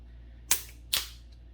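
A 3D printed Zippy Cycloid balisong trainer being flipped, producing two sharp, close clicks about half a second apart over a quiet room hum.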